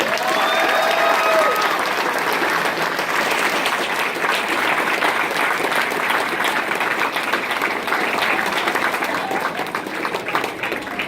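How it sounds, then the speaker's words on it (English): Sustained audience applause at an honor society induction ceremony, a dense steady roar of many hands clapping at once, loud and continuous for about eleven seconds with no talking over it. "I also would like to have just one more round of applause for all of them."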